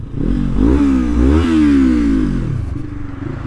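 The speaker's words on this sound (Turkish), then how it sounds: "Egzoz çok güzel patlatıyor." A 250 cc motorcycle, a Yamaha MT-25 or KTM Duke 250, revs loudly up and down close by, its exhaust note rising and falling in quick surges with no talking.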